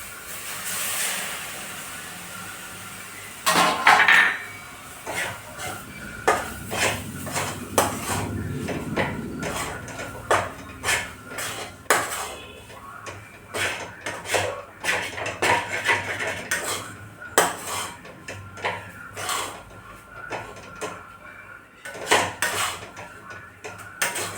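A spoon scraping and clanking against a pan while gram flour and semolina are stirred with milk over high heat: a burst of hissing early on, then repeated close metallic strokes in a steady, uneven rhythm.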